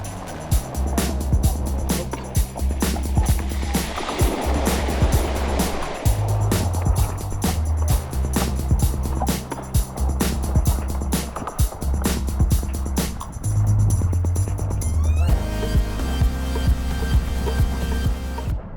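A gravel bike rides through a water crossing during the rain-soaked Unbound Gravel race, with loud, close, continuous splashing and tire rumble full of sharp spray bursts that changes to a steadier hiss near the end.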